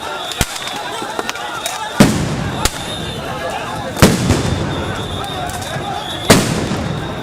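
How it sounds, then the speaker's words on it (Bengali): Police sound grenades go off during a night-time street protest, several loud sharp blasts spaced a couple of seconds apart with a lingering rumble, heard amid crowd noise. "আবারও সাউন্ড গ্রেনেড ছোড়ে পুলিশ।"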